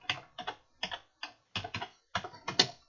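Typing on a computer keyboard while entering VBA code in Excel, with about a dozen crisp, close key clicks in short uneven bursts separated by brief quiet gaps.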